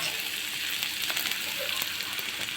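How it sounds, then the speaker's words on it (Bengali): Onions frying in a little hot oil in a wok give a close, even, unbroken sizzle throughout. "পেঁয়াজটা একটু ভাজা করে নেই"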